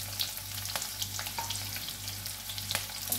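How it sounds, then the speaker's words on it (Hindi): Sliced long strips of onion frying steadily in a pan while cooking sabudana idli, a continuous soft sizzle with faint stirring clicks throughout, no talking. "प्याज को अच्छी तरह से भूनेंगे"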